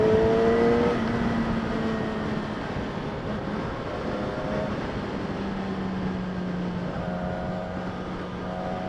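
A 2016 Yamaha R6 motorcycle engine hums steadily at high revs while riding, with wind rush over it and tonal shifts as the pitch settles and rises again.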